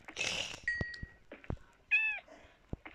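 A cat meows once clearly in the middle of a Minecraft game, with a short high electronic tone and a few soft clicks and taps around it.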